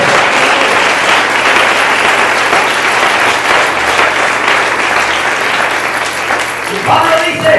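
A church congregation breaks into sustained applause, a dense and loud clapping that fills the room and carries on steadily from start to finish, with a voice rising at the end.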